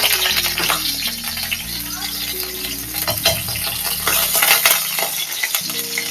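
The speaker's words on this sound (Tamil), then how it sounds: "பொடியா சாப் பண்ண பூண்டு போட்டுக்கலாம்." Finely chopped garlic sizzles loudly in hot oil in a pan, a steady close crackle with occasional stirring scrapes throughout.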